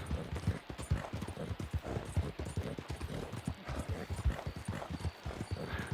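Horse hooves clip-clop in a steady, rhythmic gait on a Red Dead Redemption 2 ride, the repeated thuds moderately loud and continuous against faint ambient game sound.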